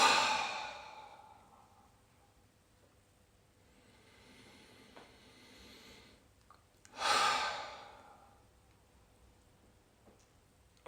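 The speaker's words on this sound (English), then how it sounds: "take another few big breaths if you want" Slow, deep meditative breathing: a long audible exhale at the start, quiet breaths through the middle, then another big breath in and out near the end, close and alone with no talk.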